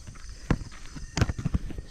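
Horse hooves clopping on a night patrol in the countryside, a few irregular distinct steps near the listener over quiet background, with faint soft noise between.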